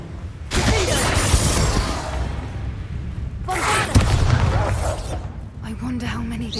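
Fiery blasting spell explosions in Hogwarts Legacy, two loud booming blasts with shattering crackle a few seconds apart, followed by quieter ambience and a voice.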